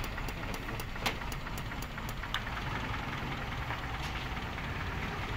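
An owner-type jeep engine idles steadily with a low rumble and faint rhythmic knocking, close by and continuous with no talking.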